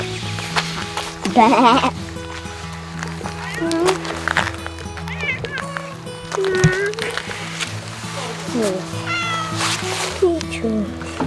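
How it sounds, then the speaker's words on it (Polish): Several cats, apparently three black ones, meowing and yowling in bursts over steady low machine-like hum, with people talking nearby in the background. "Tutaj są trzy czarne koty chyba."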